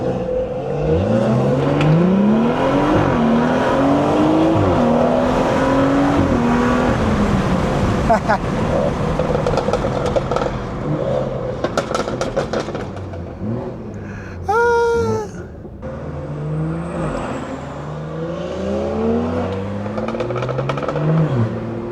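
A stage 2+ tuned BMW 340i engine revs and drops through shifts, rising and falling pitch with a blip around a downshift, heard over a voice talking.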